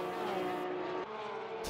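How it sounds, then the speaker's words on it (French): Porsche Supercup race cars thunder through the tunnel at the Monaco circuit, a loud, sustained engine howl with a clear tonal whine and a slight pitch drop as a gear changes, with no voices. "Très impressionnant aussi le son de ces voitures dans le tunnel"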